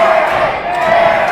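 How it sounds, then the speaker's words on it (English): At an independent wrestling show in Sedalia, Missouri, a crowd chants and cheers for Derek in a loud, sustained roar that fills the hall. "And the crowd picking up the Derek chance."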